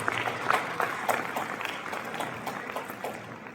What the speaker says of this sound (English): the Mashawana Foundation rendered itself to be more than deserving of a good round of applause